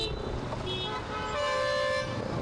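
Busy city road traffic heard from a bike taxi, with several vehicle horns tooting over a steady engine and road rumble, one longer horn note standing out near the middle.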